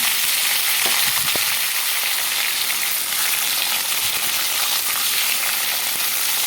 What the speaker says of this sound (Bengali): এখন আলুগুলোকে ভেজে নেব আলুগুলো ভাজা বসিয়ে দেব